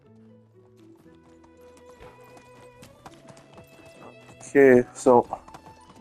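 Horse hooves clip-clop under quiet talk in the medieval life game Medieval Dynasty, then two loud, close neighs near the end.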